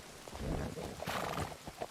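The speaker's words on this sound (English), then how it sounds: "No, this is my dumb ass horse." A horse in a video game whinnies and snorts amid hoof clatter, fairly close and brief, with a busy game background.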